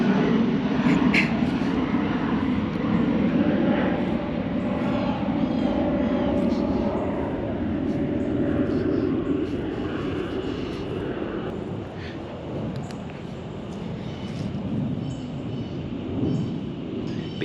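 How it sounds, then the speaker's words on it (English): Planes flying low over a church cemetery, a broad rumbling engine roar overhead that swells and slowly fades over many seconds, with no voices. "I am right under these planes."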